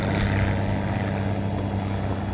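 A small aircraft flying low overhead, a loud continuous propeller-engine drone with a steady hum and buzzy harmonics, close and heard on its own.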